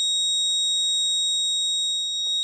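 An IoT patient monitoring device sounds a steady, high-pitched electronic alarm buzzer, a continuous piercing tone held throughout, close and unbroken, with faint clicks beneath.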